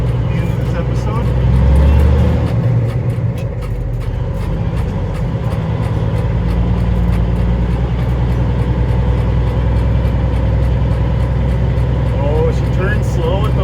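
A Smokey and the Bandit tribute semi truck rumbles along the road, a loud, steady engine drone with a brief swell early on, as someone talks over it.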